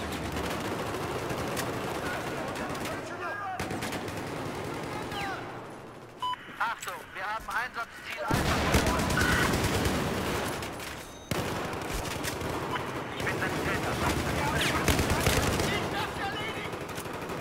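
Light machine gun fire in the video game Battlefield 4, dense sustained bursts of rapid automatic shots with short pauses between volleys, loud and close, with game ambience and a player voice in places.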